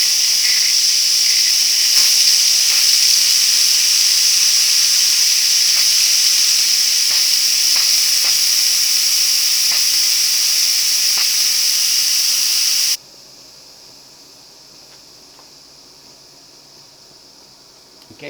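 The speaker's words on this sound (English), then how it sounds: "I'm just gonna release this pressure valve here and let some of the steam out, and this will release the pressure." Steam hisses loudly from the release valve of a Cosori pressure cooker making fifteen-bean chili, a strong steady jet for about thirteen seconds that then cuts off abruptly to a faint residual hiss.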